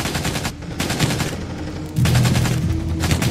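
Gunfire from an action movie scene: dense bursts of shots and explosive cracks filling the clip, loud and continuous, with a heavier barrage in the second half.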